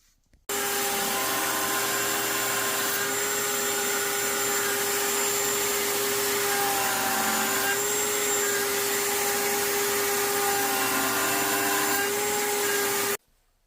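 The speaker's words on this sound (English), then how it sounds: "I can now machine the straight section of the tails using these templates" A PantoRouter cuts the straight section of dovetail tails in wood, giving a loud, steady high-pitched router whine that runs continuously for about twelve seconds, starting and stopping abruptly with no talk.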